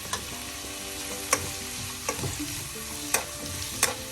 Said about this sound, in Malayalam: എല്ലാം കൂടെ നന്നായി മിക്സ് ചെയ്ത്